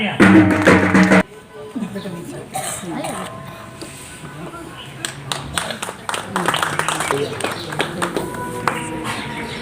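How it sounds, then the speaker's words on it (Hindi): Applause from an audience welcoming a guest at an International Women's Day event at an ashram, a loud burst of clapping at the start that drops off quickly, followed by someone speaking over scattered taps and murmurs. "श्रीमान जी का स्वागत के लिए जोरदार तालियां।"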